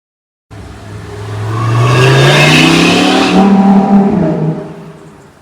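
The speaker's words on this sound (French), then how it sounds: "Il y a des voitures qui vont très vite, qui font du bruit." A car accelerates hard past on a Bel Air street, its engine note climbing loudly and steadily for several seconds before easing off as it moves away.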